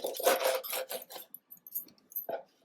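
A knife saws through a cleaned, skinned mori fish on a board, cutting it into three pieces, giving a few close, rasping strokes that fade into lighter scrapes and a final short tap.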